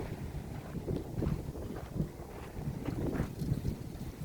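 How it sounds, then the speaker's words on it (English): Wind gusting across an outdoor seaside spot in Kahala, Hawaii, a steady low rumble of buffeting air with no one talking. "Obviously, it's kind of windy today"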